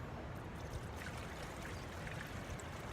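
Coolant pours steadily into a car radiator through a no-spill funnel during a radiator replacement, a continuous close trickling and gurgling wash with no talk.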